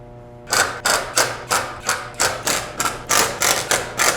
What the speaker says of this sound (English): We're going to attach that with a bracket number 6 and bolts F.